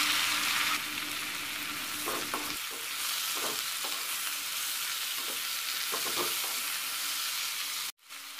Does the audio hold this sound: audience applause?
no